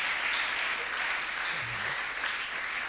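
A church congregation applauds steadily, a dense continuous wash of many hands clapping at an even level throughout.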